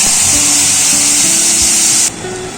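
Ground spice paste hits hot oil tempered with dried chilies, cardamom and cinnamon, a loud, dense hiss that holds for about two seconds and then drops off sharply to a softer bubbling.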